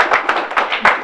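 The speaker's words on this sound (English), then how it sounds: "So if I could just get a brief little round of applause." A small community meeting audience gives a brief, sparse round of applause for the police chief, with a few distinct hand claps in an uneven rhythm, fairly close and moderately loud.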